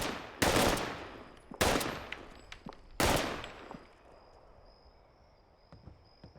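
Three loud, sharp gunshots ring out at an outdoor shooting range during arms training, spaced about a second and a half apart, each trailing a short echo before fading into quiet ambient noise.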